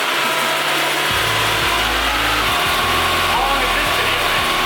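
Car engine idling with nacho cheese in place of motor oil, a loud continuous running drone with low rhythmic pulsing, heard up close with voices talking over it.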